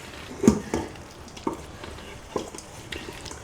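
Fish is stirred and mixed with its marinade in a round pot, giving soft, intermittent wet scraping and knocking strokes at an uneven pace, close and fairly quiet.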